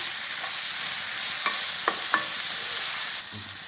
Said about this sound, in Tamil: காய்கறி வதங்கிட்டு கொஞ்சம் தக்காளி ஒரு தக்காளி அதையும் இதோட நல்லா வதக்கணும்